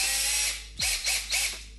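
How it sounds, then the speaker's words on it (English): A small motorized tool whines high and steady, then clicks rapidly in three short ratcheting bursts, close and clear. "Look at this cute little drill it came with."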